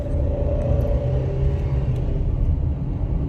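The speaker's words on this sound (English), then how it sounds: "A little noisy old motor," Noisy old high-mileage Toyota Camry engine runs with a continuous low rumble and a faint whir, steady and fairly close, with no voices over it.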